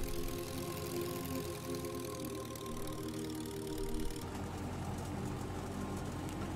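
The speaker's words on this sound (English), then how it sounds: "Don't know if you can hear my aircraft." Droning engine of a Tiger Moth biplane in Microsoft Flight Simulator, a steady low hum running alone throughout, with a slight shift in tone partway through.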